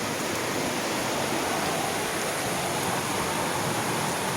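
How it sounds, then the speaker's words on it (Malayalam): A stream swollen by heavy rain in hilly country rushes past, a dense, steady roar of water filling the whole clip with no voices. "നല്ല വെള്ളം വരുന്നുണ്ടോ, മലവെള്ളം."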